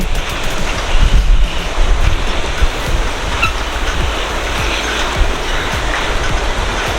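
Strong wind gusts steadily at the Dawki bridge in Meghalaya, a loud continuous roar and buffeting across the microphone with no voices.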